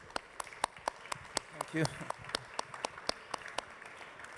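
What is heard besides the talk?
audience applauding the session's experts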